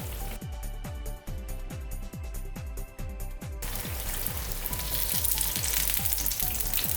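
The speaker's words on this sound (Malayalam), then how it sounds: "കുറച്ച് നേരം ആ സൈഡ് ഒന്ന് നന്നായിട്ടൊന്ന് ഫ്രൈ ചെയ്തെടുക്കുക." Kannur appam, a sweet fried batter snack, frying in oil with a steady bubbling sizzle and a quick run of regular pops, growing louder and crackling toward the end, with no voices.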